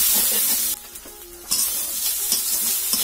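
Pumpkin frying with turmeric in a pan, a close, steady sizzle with occasional stirring scrapes, briefly dipping before resuming.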